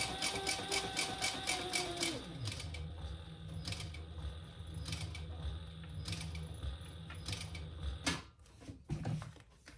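A sewing machine stitches a crossbody bag in a steady mechanical run of clicking, whirring motor sound, close and moderately loud, with a brief pause and a couple of short bursts near the end.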